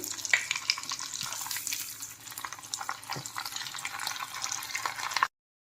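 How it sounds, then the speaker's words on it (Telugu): Freshly cut raw coconut pieces sizzle and crackle steadily in hot oil in a pan for an evening snack mix, a close, continuous frying hiss that stops abruptly at the end, with no talk. "కొబ్బరి పచ్చి కొబ్బరి ఇలా కట్ చేసుకోవాలి సన్నగా అవి కూడా ఎర్రగా వేయించుకోవాలి"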